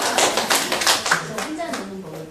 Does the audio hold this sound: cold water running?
no